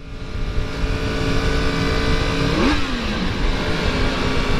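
A Yamaha MT-10 SP motorcycle rides along with a steady engine drone, then a sharp pitch sweep as it passes or shifts around the middle, loud and close with no talking.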